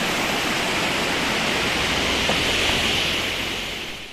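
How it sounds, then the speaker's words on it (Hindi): Steady broadband rush of waterfall water pouring down a mountainside on the road from Naran to Babusar Top, flowing toward the Kunhar River, loud and continuous without pause. "नीचे से देख लें, ये वाटरफॉल का पानी जा रहा है"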